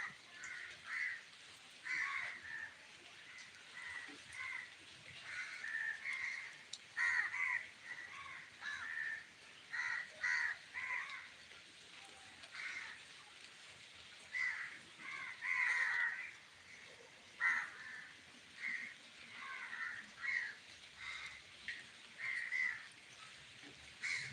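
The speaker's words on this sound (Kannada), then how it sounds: "ಕಾಗೆಗಳು ಆಡ್ತಿದ್ದಾವೆ ಅಲ್ಲಿ ಅಲ್ಲಿ" Crows caw repeatedly in scattered bursts from a moderate distance, harsh calls overlapping and pausing over a quiet outdoor background under cloudy skies with light drizzle.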